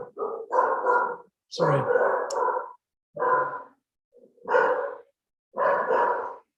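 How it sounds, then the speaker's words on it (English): Several dogs barking indoors at a home, in loud bursts of repeated barks separated by short silences, close by, with a person briefly speaking an apology. "when you give a talk from home, you have lots of dogs around"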